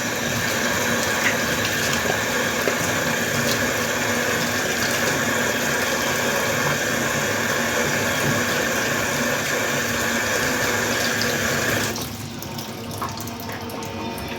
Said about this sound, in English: So first thing first, we wash our hands. So wash my hands.